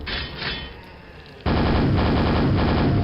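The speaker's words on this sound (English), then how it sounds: "Take that, super nail gun." Super nail gun firing in the video game Quake, a dense rapid stream of mechanical shots that jumps abruptly louder halfway through and keeps hammering steadily to the end without any voices.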